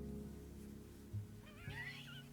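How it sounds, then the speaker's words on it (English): A cat gives a faint, short meow near the end, rising and wavering over a low background hum with a soft thump just before it. "I got the cat."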